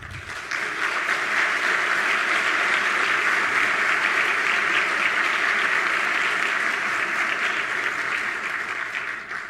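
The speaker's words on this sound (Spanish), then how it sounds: "para quien pido un gran aplauso" Large audience applause at an agricultural congress, a loud, sustained roar of many hands clapping that holds steady for several seconds before tapering slightly at the end.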